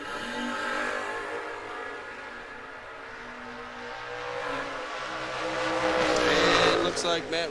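Drag racing launch between a West Virginia-based Camaro and a New Jersey-based Mustang at a Mutt and Jeff Promotions event, engines roaring steadily and building louder toward the end, with an announcer talking over the noise.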